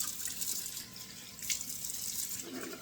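Running tap water at a bathroom sink, used to rinse a shaving brush, streams steadily and close by, with a brief louder splash midway and no voices.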